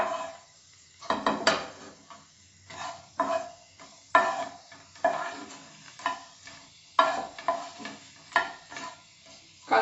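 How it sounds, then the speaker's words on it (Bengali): Dried red chillies fry in oil for Karnataka-style lemon rice, a light sizzle broken by rhythmic bursts of spatula stirring and scraping against the pan, each stroke swelling and fading, close and without talk. "এবার তেলে আমি শুকনো লঙ্কা দেব। লঙ্কাটাকে একটু নেড়ে দিলাম।"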